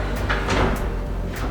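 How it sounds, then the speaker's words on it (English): A large soft-close pull-out pots and pans drawer in a kitchen island slides with a few soft rumbling movements and light knocks, close, over a low room hum. "these large pull-out pots and pan drawers, all on soft close hardware."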